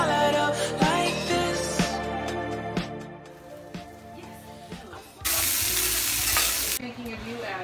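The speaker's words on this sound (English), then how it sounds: "Luke's cooking eggs." Eggs frying in a pan for Christmas breakfast, a soft steady sizzle with clinks of a utensil against the pan, then a sudden louder burst of hissing crackle toward the end.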